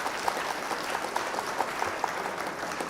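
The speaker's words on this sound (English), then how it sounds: "Round of applause for you, my friend." Soft, steady applause from a small group, heard faint and fairly distant, a dense patter with a few sharper claps standing out, no voices over it.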